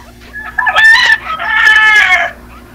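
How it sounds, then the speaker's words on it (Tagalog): Two loud crows from a fighting rooster ring out close by, one short and sharp, then a longer drawn-out call, with faint background noise underneath. "Maraming manok. Pansabong yan."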